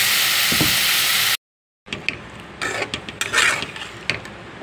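Potato pieces and tomatoes fry in spiced oil in a pan for an Indian potato sabzi: a sizzling hiss, then a brief cut to silence, followed by quieter sizzling and scraping stirs against the pan.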